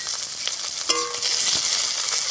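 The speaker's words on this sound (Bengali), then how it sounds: "পেঁয়াজগুলোকে আমি একটু নেড়েচেড়ে ভালো করে ভেজে নেব" Onions fry in hot oil with whole cumin and bay leaves, giving a bright, continuous sizzle up close, with a single stirring clink partway through and no voices.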